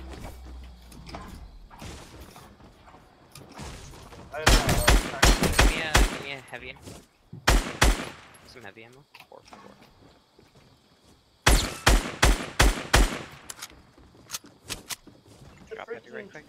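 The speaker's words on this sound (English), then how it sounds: "a heavy shotgun is so satisfying to shoot" A heavy shotgun fires in a battle royale video game, with loud booming blasts in quick clusters separated by quieter stretches, under and between a player's talking.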